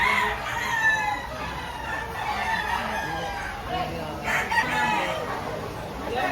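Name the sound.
rooster crowing, chicken breed White Kelso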